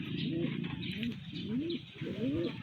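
A racing pigeon coos close by in three repeated rolling phrases, each a low warbling rise and fall, over a faint steady background hiss.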